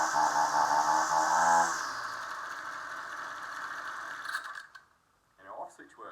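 A second-hand whipper snipper engine runs steadily up close, then its pitch drops and it winds down to silence, followed by a brief faint rustle.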